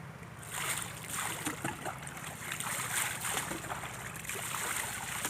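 Water from a mug splashes and sloshes in a pond during a cold-weather bath, several uneven pours and splashes, fairly soft and close.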